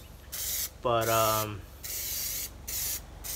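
A Plasti Dip aerosol can sprays black coating onto car rims in several hissing bursts, one brief voice cutting in near the start.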